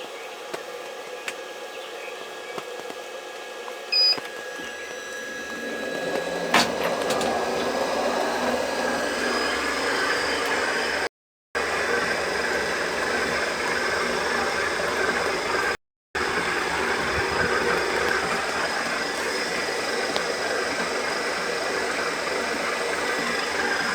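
An electric honey extractor switched to a higher speed and started again: a steady motor whine and broad whirring hum rise after a quiet start and run continuously at close range, with no talking.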